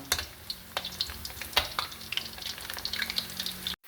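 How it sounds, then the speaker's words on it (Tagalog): Garlic frying in a pan for peanut adobo, with a steady crackling sizzle broken by scattered sharp clicks and stirring scrapes, close and fairly quiet, ending abruptly. "i-fry muna natin tong ating bawang"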